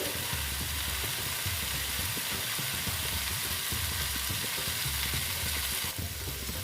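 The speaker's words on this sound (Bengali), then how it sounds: "দেখো কষিয়ে নিচ্ছে" Vegetarian soybean curry sautés in a pan with a continuous loud, close sizzle and occasional stirring scrapes, steady throughout and with no talking.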